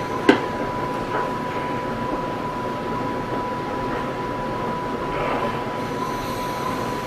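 Rail Runner commuter train rolling into a station, a steady low rumble of cars on the rails with a sustained tonal whine and a sharp metallic clank near the start, heard close and continuous.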